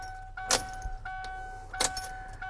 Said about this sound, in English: Let me turn the ignition off and on a couple of times.